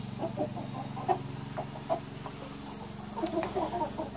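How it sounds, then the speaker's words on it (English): Hens cluck softly in short scattered calls over a low steady hum, quiet and close, with a small burst of clucking near the end. "These are the hens."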